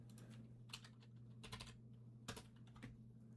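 Very faint typing on a computer keyboard, a scattered series of light clicks and taps at an uneven rhythm over a low steady hum, no speech.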